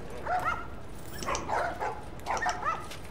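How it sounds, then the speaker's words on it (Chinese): In the video game The Last of Us, a dog gives a few short yips and whimpering barks in quick bursts, close and moderately loud over a quiet background. "狗狗"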